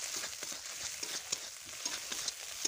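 Spices with turmeric and tomato fry in a pan, giving a steady soft sizzle with faint scraping and stirring ticks, close by and fairly quiet, with no talk.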